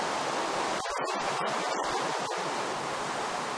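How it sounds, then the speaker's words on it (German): A Minecraft waterfall gives a steady, loud, hissing rush of falling water that fills the whole moment, briefly broken by a few quick choppy dips partway through. "Bitte achte auf den Wasserfall!"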